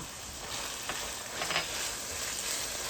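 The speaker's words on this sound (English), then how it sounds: "I'm going to put my garlic, and this is homegrown garlic" Homegrown garlic fries in a pan for stuffed zucchini, a faint, steady hiss of sizzling oil with a few small crackles and pops, no voices.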